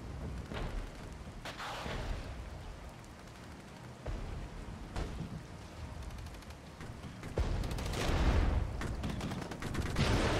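Near-constant battlefield gunfire in the Cold War strategy game Regiments: rifle and machine-gun fire crackling steadily, with sharper nearby shots and rumbling blasts growing louder toward the end.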